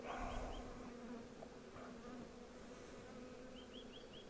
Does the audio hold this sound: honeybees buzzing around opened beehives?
yes